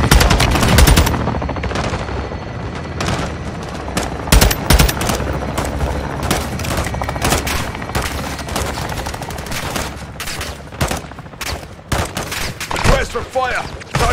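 Intense weapons fire in Call of Duty: Modern Warfare 2, with loud sustained machine-gun bursts and rapid volleys that are dense and near, broken by sharper individual shots, and voices faintly mixed under the barrage.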